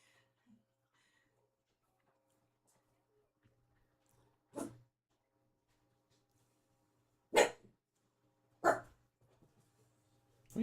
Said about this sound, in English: What are you barking at, man?